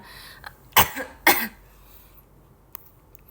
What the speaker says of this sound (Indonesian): dari tadi aku udah batuk berapa kali guys